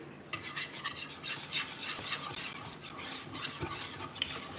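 Flour and oil whisked together in a pan, a steady broadband scraping and stirring that runs continuously at close range with no voices.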